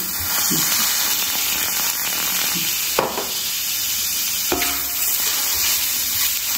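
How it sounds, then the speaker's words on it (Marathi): A pan of masala with tomato sizzles steadily while being stirred, with a couple of sharp scraping clinks of a spoon against the pan. "एक परतून घेणार आहे आपण"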